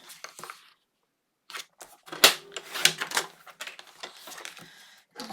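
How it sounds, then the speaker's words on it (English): A Fiskars paper trimmer slices through paper for a Doodlebug Seaside Summer folio, giving several sharp, close cutting and sliding strokes in irregular bursts with short pauses. "I ended up with a new Fiskars trimmer"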